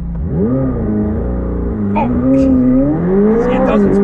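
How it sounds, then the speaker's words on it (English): A 2021 McLaren 765LT launches hard using launch control, its engine note climbing loudly through rising revs with quick upshifts, heard from inside the car with voices faintly present. "I think you gotta try launch control."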